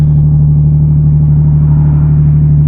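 A car engine with downpipes and a resonator-delete exhaust idles loudly and steadily up close, a deep constant exhaust drone with a low, throaty rumble and no talking.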